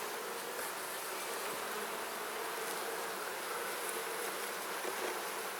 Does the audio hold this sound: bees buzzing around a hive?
yes